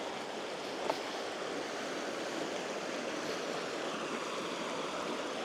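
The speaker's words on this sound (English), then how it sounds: "But listen to that river." Steady broadband rush of a flowing river along Citico Creek, a continuous wash of water noise heard close and fairly loud with no voices over it.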